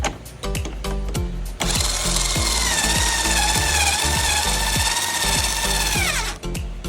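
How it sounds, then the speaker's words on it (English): A power drill runs in a sustained high whine for several seconds while installing a mount for Auxbeam 4-inch lights, preceded and accompanied by rapid rhythmic clicking and rattling, close and loud. "this drill is giving me the best of it"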